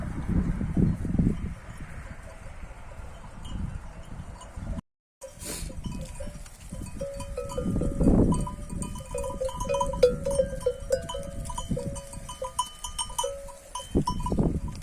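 Sheep flock being herded in a snowy mountain village, with scattered animal calls, shuffling movement and a faint bell over steady outdoor noise, broken by one brief dropout.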